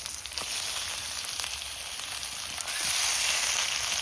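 Desi red rooster meat frying in a pan gives a steady hiss that swells noticeably louder partway through, heard up close with no voices.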